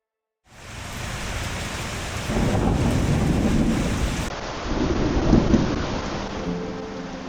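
Heavy overnight rain with thunder during a bike tour, a broad steady roar of rainfall with deeper rolling thunder swelling twice, loud and close, no voices.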